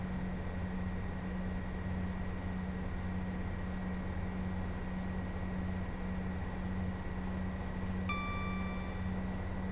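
Class 158 diesel multiple unit engine in Train Sim World 3, a steady low drone with a constant hum, and a brief tonal chime entering near the end.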